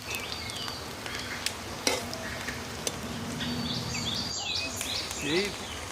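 Rohu fish pieces frying in hot oil, a steady close sizzle with occasional stirring clicks and faint bird calls in the background.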